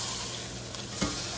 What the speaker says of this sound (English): I am going to flip the burger over because it's really sizzling